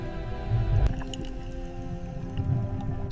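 Humpback or orca whales calling underwater in the ocean, with long moaning harmonic tones and a few squeaky, gurgling bursts that rise and fade over a murky, rumbling background.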